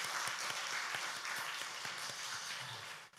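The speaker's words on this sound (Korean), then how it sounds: "박수하겠습니다" A church congregation at a Sunday morning service gives a few seconds of steady applause, a dense wash of clapping from a roomful of people with no talk over it.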